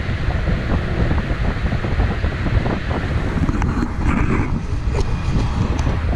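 Strong outdoor wind roars and buffets the microphone during the lift of a 117-foot, 7,300-pound conveyor, a loud continuous rumble with faint clanks and scrapes showing through near the end.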